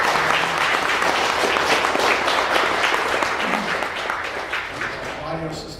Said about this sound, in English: let's give a huge round of applause for Ryan for finding this